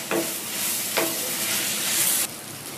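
Steady sizzling of spices (turmeric, cumin, pepper, chili powder) frying in a hot pan, with a couple of brief scraping stirs near the start.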